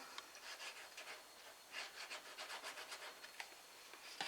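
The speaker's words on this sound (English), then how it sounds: "we're going to fold that down and burnish that down really nice and hard" Folded paper box flaps are burnished down hard, giving a series of quiet, close rubbing and scraping strokes in quick bursts.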